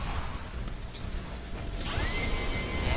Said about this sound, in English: The drill is pretty crazy.